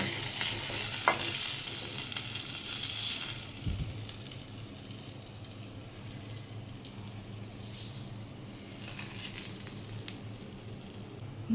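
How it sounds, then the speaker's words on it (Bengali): Dried red chilli frying in hot oil left over from frying fish gives off a steady, close sizzle that fades slightly partway through, with no voices. "মাছ ভেজে নেওয়ার পর তেলের মধ্যে একটা শুকনো লঙ্কা দিয়ে দিলাম, শুকনো লঙ্কাটা ভেজে নিচ্ছি।"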